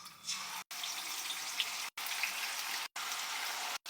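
Marinated chicken pieces sizzle in hot oil, a steady broadband frying hiss that runs continuously with a few brief dropouts, close and fairly loud, with no voices.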